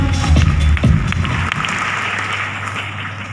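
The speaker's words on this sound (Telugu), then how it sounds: "ముందుగా నాకు అవకాశం ఇచ్చినట్టు దేవునికి ఒకసారి బిగ్ క్లాప్స్" A crowd at a business recognition event breaks into applause, a dense roar of clapping that stays strong and continuous, heard close with a low hum beneath and a few shouts near the start.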